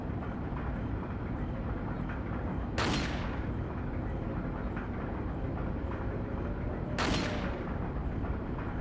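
Two booming gunshots ring out from Leon's weapon in Resident Evil 4, spaced several seconds apart, each a sharp blast with a fading tail over a constant low game ambience.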